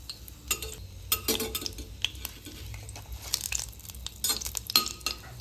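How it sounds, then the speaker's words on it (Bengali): Dry red chilli, a bay leaf and whole garam masala are tempered in hot oil, with a light sizzle under sharp clinks and scrapes of a utensil against the pan. "গরম তেলে ফোড়ন দিয়ে দিই শুকনো লঙ্কা, একটা তেজপাতা আর গোটা গরম মশলা।"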